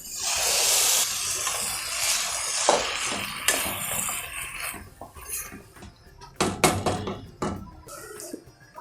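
Vegetables sizzle in a hot pan for a pink pasta sauce: a steady hiss with occasional clinks and stirring scrapes of utensil on pan, then brief sharp taps near the end, no talking.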